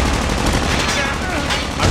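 Loud, dense automatic gunfire rattles continuously through Call of Duty Mobile play, a steady wall of shots with no clear gaps.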